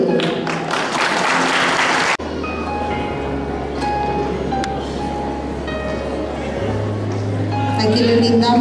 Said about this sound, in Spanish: Aquí le brindamos un fuerte aplauso